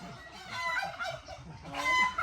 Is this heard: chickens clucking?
yes